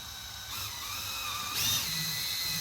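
A power drill bores a hole for mounting a motorcycle audio amplifier on a 2022+ BMW, giving a close, steady whine with a slight rise in pitch partway through.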